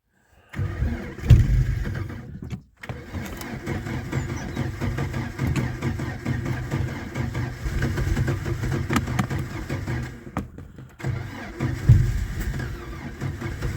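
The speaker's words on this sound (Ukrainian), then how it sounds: "Так, холодний пуск при вас." A cold Fiat car engine cranks and catches at the start, then settles into a steady, loud, close idle that runs on with a brief dip near the end before picking up again.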